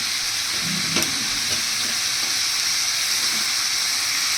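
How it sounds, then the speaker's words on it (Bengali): Potatoes frying in a pan alongside young jackfruit, onion and garlic, giving a steady, close sizzle with a few soft stirring scrapes. No one speaks over it. "ভাজা ভাজা করবো, আলুগুলোকে ভেজে নেবো।"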